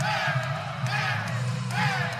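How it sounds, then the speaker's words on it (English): Crowd noise from a student section at a women's college basketball game between Eastern Illinois and Northern Illinois: a steady, moderately loud roar of shouts and whoops that persists throughout, with scattered voices rising above it. "The crowd is having some fun here, Ryan."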